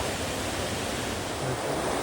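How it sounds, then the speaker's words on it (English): Lower Copeland Falls on the Wild Basin Trail in Rocky Mountain National Park rushes with a steady, loud, broadband roar of falling water, heard close and unbroken. "this is Lower Copeland Falls. We're on the Wild Basin Trail in Rocky Mountain National Park"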